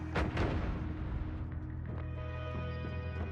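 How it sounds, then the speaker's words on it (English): A bomb goes off in the Noita video game: two heavy, close blasts at the start, then a rumbling tail that fades into quieter crackles and a tonal hum. "Trying to bomb you again."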